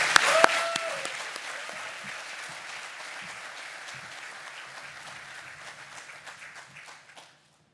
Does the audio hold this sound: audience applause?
yes